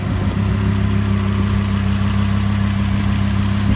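A 2015 Lamborghini Huracán LP610-4 with its 5.2-liter naturally aspirated V10 idles steadily, a close, loud, even engine drone with a low rumbling hum and no talking.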